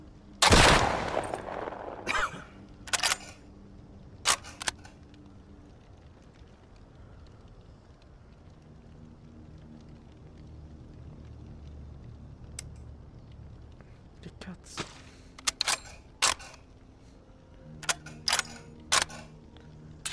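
Guns fire in The Walking Dead: Saints & Sinners, a VR game. Isolated sharp shots are spaced across a quiet ambient bed, with a few clustered bursts near the end.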